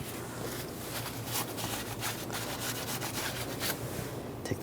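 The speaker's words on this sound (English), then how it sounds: "Just clean it off. You can wipe it with a rag." A rag rubs a brake bleeder clean on a 2013-2016 Dodge Dart with soft, quiet, scrubbing swishes in quick irregular strokes, close but faint.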